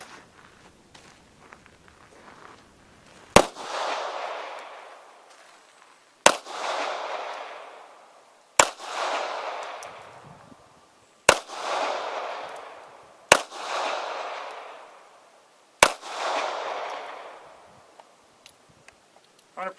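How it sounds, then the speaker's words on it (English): Six sharp gunshots from a Taurus TCP pistol firing Tula steel-case .380 ammunition, spaced a few seconds apart, each a loud close crack with a short echoing tail; no talking between shots. "we're going to test our 380 ammo with steel case. We got the TCP from Taurus, and the first one up is the Tula"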